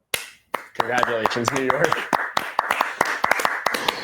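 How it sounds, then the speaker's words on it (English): A few people clap sharply for the Jets in a small room, scattered sharp slaps in an uneven rhythm mixed with laughter and talking, starting sparse and then continuing as loose intermittent claps. "Give me a clap for the Jets"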